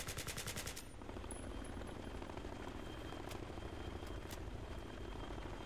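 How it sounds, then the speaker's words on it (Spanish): Helicopter in the video game Battlefield 3 during a campaign firefight, a steady rotor-and-engine roar running throughout, with bursts of gunfire early on and a few sharp shots cutting through later. "ese helicóptero"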